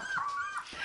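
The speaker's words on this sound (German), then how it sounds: "werden sie dem Jaulkonzert gerne weiter zuhören" Puppies whining and yelping: a short, thin, rising and falling whimper, close and fairly soft, with a faint second yip at the end.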